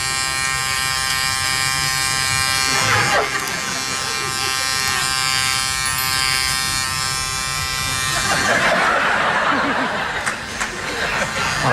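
A voice imitates an electric razor, buzzing steadily in a comic impression of Mr. Bean shaving, with a brief chuckle partway through and audience laughter near the end.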